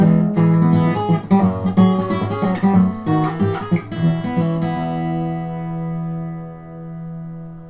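A fingerpicked acoustic guitar plays a short bluesy phrase of plucked notes, ending on a chord left ringing out as it fades.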